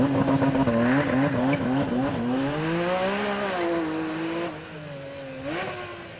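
Porsche supercar doing a burnout at a supercar weekend event: a loud, sustained engine roar with wavering revs and tire squeal, pitch rising and falling, then a brief dip before a final rev.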